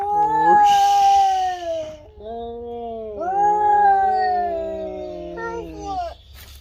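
Cats yowl in long, wavering, drawn-out cries, close and loud, with two sustained caterwauls separated by a short pause and a brief hiss.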